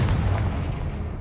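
A Confringo fire-blast spell explodes in Hogwarts Legacy, a short, deep booming burst with a rumbling low end that fades quickly over about a second.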